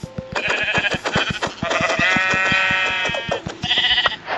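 Sheep bleating in the video game Minecraft, several repeated wavering bleats layered over a steady rhythmic thumping background beat, loud and close.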